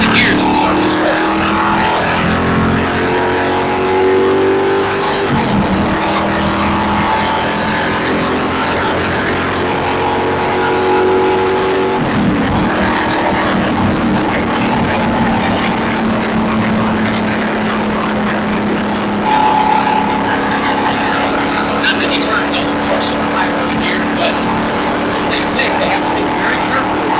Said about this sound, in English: get a feel for what the driver's going through as he goes into the gears at the start of this race.